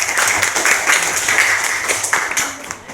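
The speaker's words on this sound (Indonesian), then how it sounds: "Tepuk tangan." Fifth-grade class clapping hands in a classroom, a lively stretch of overlapping claps with children's voices mixed in throughout.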